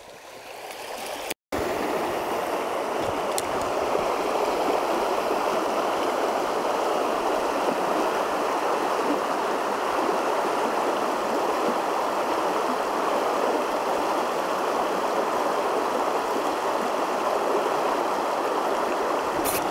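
Forest river rapids rush and churn in a loud, steady, continuous roar of flowing water heard close by, with no voices.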